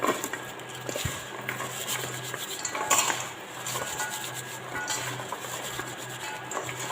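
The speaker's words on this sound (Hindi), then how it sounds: "इनको थोड़ा सा आप हाथ से मल दें।" Garlic cloves rubbed between the hands to loosen their peels, giving a steady, close, dry rustling and scraping texture with faint handling clatter and no speech.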